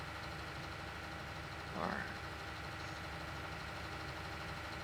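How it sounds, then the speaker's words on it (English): Big John Deere 8970 tractor engine running steadily while pulling a large field cultivator at about 11 mph, a continuous mid-low drone throughout with a brief voice speaking over it. "This is a really big cultivator, but I really like this 8970 John Deere. It's a pretty sweet tractor."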